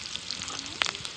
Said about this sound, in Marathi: आता तळताना थोडी थोडी वरनं कोथिंबीर टाकणार आहे